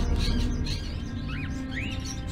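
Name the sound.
crow calling in Fahrenheit: Indigo Prophecy video game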